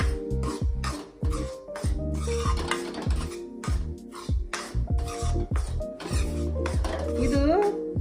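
A spoon scrapes and clinks against a pan while milk powder roasts in ghee for Dharwad peda, with steady rhythmic stirring strokes, close and fairly loud throughout.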